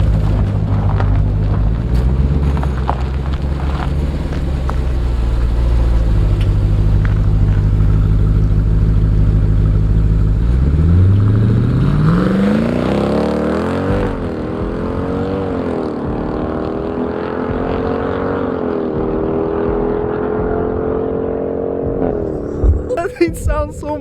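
Dodge SRT V8 with its mufflers deleted, a steady loud rumble building into a rising rev and then settling into varied throttle blips, with people talking over the engine throughout.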